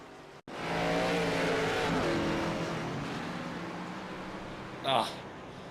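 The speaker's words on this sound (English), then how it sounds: "See Chris Lyotta spinning the car out under braking" A race car in a cup series race at Portland International Raceway spins out under braking. A broad engine and tire roar swells, then fades, with a short squeal near the end and a commentator talking over it.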